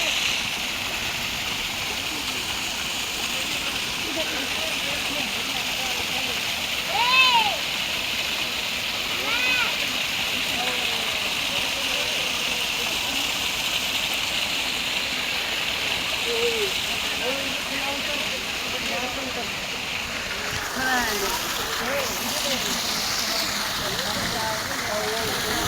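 Water flows and splashes steadily for the whole stretch, a continuous broad rush like a stream or small fall, with a few faint voices briefly in the background.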